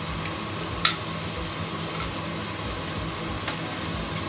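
Chopped tomato, turmeric and chili powder are stirred in a pan with a soft, steady sizzle and scraping, broken by a couple of sharp utensil clinks against the pan.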